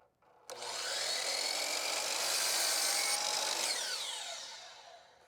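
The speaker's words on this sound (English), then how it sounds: "I'll swing to a 45-degree miter and I'll cut that 45-degree miter" A miter saw spins up and cuts a 45-degree miter through baseboard molding. The whine is loud, close and steady for about four seconds, then fades as the blade winds down, with no talk.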